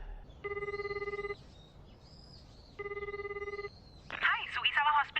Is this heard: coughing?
no